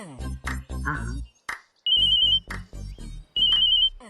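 A telephone ringtone trills twice in steady high-pitched bursts, cutting in between bouts of nearby talking.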